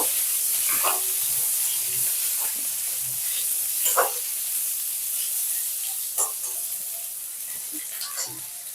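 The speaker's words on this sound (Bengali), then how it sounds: "এবার আলু আর পটলগুলোকে লাল লাল করে ভেজে নেব।" Potatoes and pointed gourd fry in hot oil with a constant bright hissing sizzle, with occasional sharper spatters and pan knocks, heard up close.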